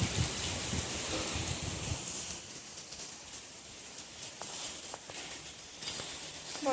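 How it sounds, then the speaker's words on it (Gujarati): Heavy rain pours steadily as a dense, even hiss, with faint drips and splashes on surfaces nearby and no voices heard. "વરસાદ તો એટલો બધો ધોધમાર પડે છે ને."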